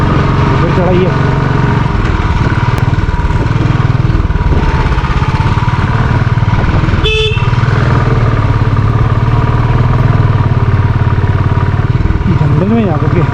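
A motorbike engine labours uphill on a rough forest track in the Chail valley, Himachal Pradesh, a steady loud drone with shifting pitch under ongoing talk.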